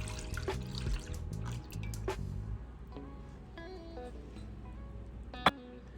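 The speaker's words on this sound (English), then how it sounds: "I just added 2 cups of milk." Milk is poured into a saucepan on low heat for bread pudding, giving a soft liquid trickle and splash that settles into faint dripping over a low background rumble.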